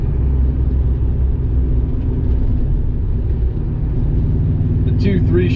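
Car interior during driving, a steady engine rumble and low road drone running throughout, loud and continuous, with a faint voice near the end; a 2007 Shelby GT or 1981 Porsche 928 shifting from second to third gear.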